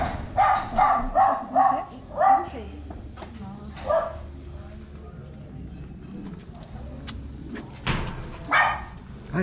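A dog barks in a quick burst of about five loud yaps near the start, then gives one more bark and falls quiet under people talking.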